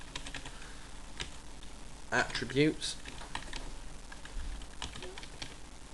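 Soft, scattered keyboard clicks tap along at an uneven pace, with a brief spoken word partway through.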